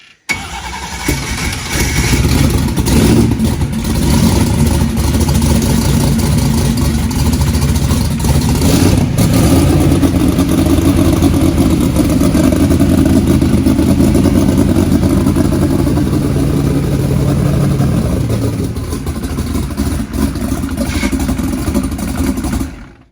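A race car engine on big tyres cranks and starts, then idles loudly with rumbling throb and occasional revs, close to the microphone before cutting off at the end.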